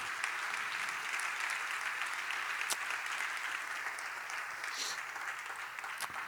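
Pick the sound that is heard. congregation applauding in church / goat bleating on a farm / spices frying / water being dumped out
congregation applauding in church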